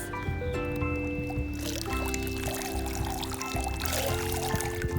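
Water pouring and trickling from a bath toy that sprays like a shower into bathwater, with splashing and gurgling close by and a voice talking throughout.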